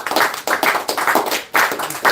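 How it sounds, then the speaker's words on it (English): Hand claps from a congregation in a lively church gathering, repeated in a steady rhythmic pattern with several bursts, fairly loud and close with no talking over them. "come on, hand claps."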